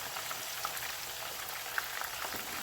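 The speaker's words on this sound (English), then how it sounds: "Don't you love that sizzle?" Oil sizzles steadily with a soft crackling hiss as scallions fry in a kitchen, with a few sharper pops rising above the constant frying noise.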